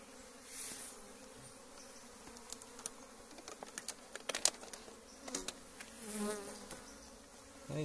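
A honeybee swarm buzzing during a hive transfer, a steady close drone with individual bees zipping past, no talking.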